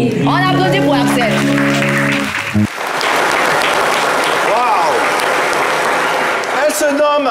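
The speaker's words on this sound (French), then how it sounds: "On applaudit pour Axel." After a voice and a brief pause, a French television audience breaks into applause for a young boy named Axel, loud steady clapping that continues under occasional voices.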